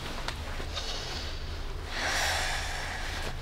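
Slow, deep breath let out gently, a soft airy exhale swelling near the two-second mark over a low steady hum, close and quiet with no talking.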